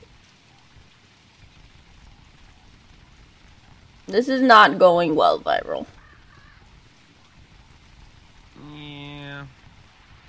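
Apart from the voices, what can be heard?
rain falling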